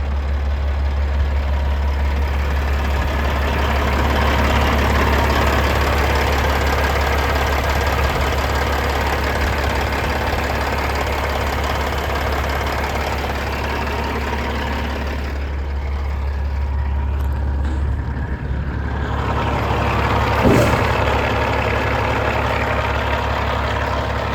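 A 2019 Peterbilt 389 glider truck with a Cat engine idles steadily, a deep, continuous diesel rumble with an even knocking pulse, close and loud, with no talking.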